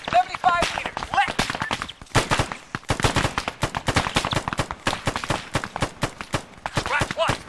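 Rapid, repeated sharp impacts ring out from an artillery strike in the ArmA video game, a dense volley of loud cracks and bangs in quick irregular succession throughout.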